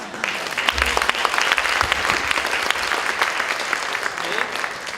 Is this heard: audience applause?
yes